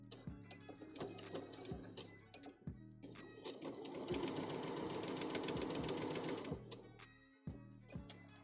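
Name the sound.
sewing machine stitching a cosplay costume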